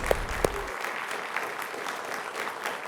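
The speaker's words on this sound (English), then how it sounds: "Can we get a round of applause for both teams?" Studio audience applause for both teams after a high school quiz match between Bishop Gorman and Clark, even continuous clapping of moderate loudness following a couple of sharp thumps at the start.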